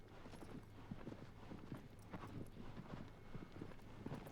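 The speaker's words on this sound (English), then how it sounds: "Get up to a nice canter." Horse cantering in the video game Shadow of the Colossus, a steady rhythmic clip-clop of hooves repeating throughout over a low continuous hum, moderately loud and close.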